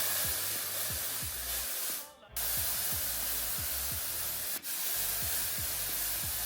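Hair product is sprayed onto silk-pressed hair in a gym, a close, steady aerosol hiss broken by two short pauses, with faint low thumps underneath.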